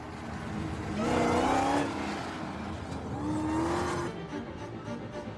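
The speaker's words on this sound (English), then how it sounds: "That is a genuinely horrible noise that Hammond's car's making, and he just keeps doing it." A car engine revs hard and unevenly while one pedal and then the other is stamped, giving a horrible, wavering whine that climbs and falls twice. It is loud and close and no one speaks over it.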